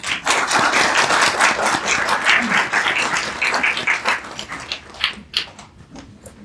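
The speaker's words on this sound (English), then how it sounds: "join me in welcoming Dr. Kenneth Valpey with a warm round of applause." Sustained applause from a crowd at a lecture, dense clapping that thins out toward the end into a few scattered claps.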